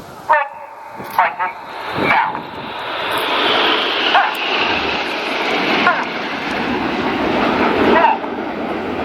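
Red Arrows RAF aerobatic jets roar past at the 2016 Royal International Air Tattoo air show, a loud sustained engine rush that swells and fades over several seconds, with a few sharp bursts at the start and crowd and commentary noise underneath.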